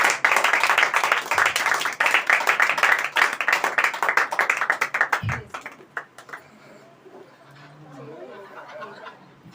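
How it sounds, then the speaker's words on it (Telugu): A church congregation at a Telugu Christian New Year gathering claps to welcome Pastor Raju Babu. Loud, dense clapping runs for about five seconds, then breaks into scattered claps and fades under murmuring and light chatter. "చప్పట్లు కొట్టి రాజుబాబు గారిని ఆహ్వానించారు"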